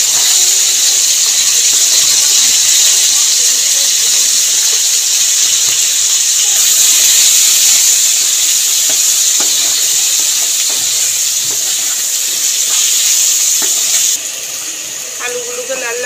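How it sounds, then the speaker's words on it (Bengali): Potato pieces fry in hot oil with salt and turmeric, giving a loud, continuous bright sizzle and hiss that fades slightly near the end, with occasional stirring clinks. "ওই গরম তেলের মধ্যে আলুটাও ভেজে নেব। নুন হলুদ দিয়েই ভেজে নেব ফুলকপির মতন করে।"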